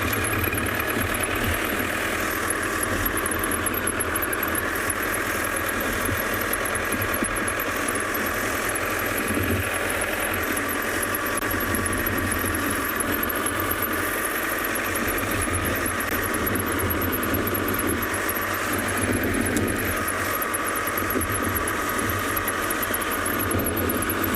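Safari game drive vehicle engine running while driving through savanna at sunset, a steady loud drone with faint squeaks and rattles, close and continuous with no speech.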